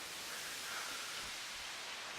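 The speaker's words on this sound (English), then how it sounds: "it's just a rising noise with a lot of reverb on it" A riser effect in a simple electronic beat: a rising wash of noise drenched in heavy reverb. It holds as a dense, steady hiss throughout, heard alone.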